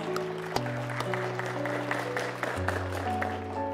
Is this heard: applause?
yes